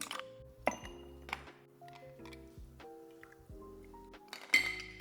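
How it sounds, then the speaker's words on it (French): Shaken cocktail of lime juice and agave syrup poured over ice cubes in a glass, with several distinct clinks and a ringing glassy ping near the end, close and with no talking. "Ensuite, vous versez dans un verre avec quelques glaçons."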